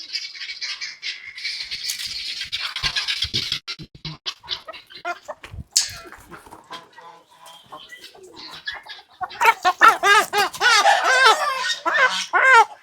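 Chickens cluck and peep in short bursts, getting busier and louder toward the end.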